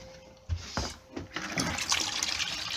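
Blue Alde antifreeze coolant gushes and splashes out of a caravan heating system into a bucket, with several surging pours and trickles close by and no talk.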